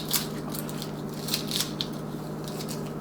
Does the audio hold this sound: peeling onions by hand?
yes